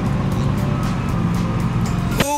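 Vehicle engine running at full speed in fourth gear in the survival game DayZ, a steady loud droning hum held throughout, ending with a brief sharp clunk.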